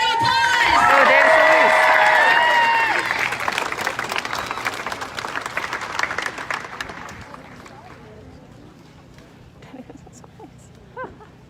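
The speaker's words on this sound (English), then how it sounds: "Give him a round of applause." A crowd breaks into loud applause and cheering that gradually fades to scattered claps, with voices and shouts mixed in.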